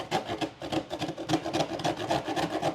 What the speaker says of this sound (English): I'm just going to run it into my cheese grater